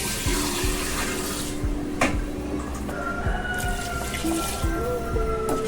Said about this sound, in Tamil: நான் இன்னும் இந்த ஜாரில் ஒரு 2 ஜார்ஸ் தண்ணி ஊற்றுவேன்.